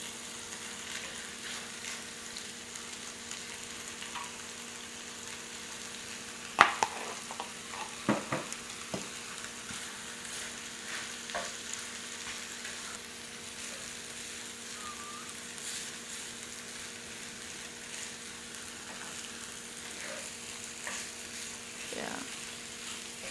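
Rice for cheesy chicken fried rice sizzles softly in a pan, a low steady frying hiss under a constant background hum, with a few scraping clatters of stirring and occasional talking.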